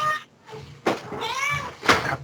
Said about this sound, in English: Whose cat am I talking to?